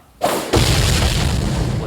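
Booming blast from a bomb skill in Roblox Blox Fruits, a loud sudden hit followed by a second heavier burst that rolls into a sustained rumbling roar.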